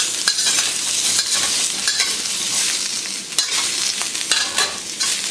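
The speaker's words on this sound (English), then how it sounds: "We're going to give that a quick sear with the ginger and the garlic." Onions, ginger and garlic sear over high heat in a hot pan, a steady loud sizzle broken by repeated scraping stirs at close range, with no talking.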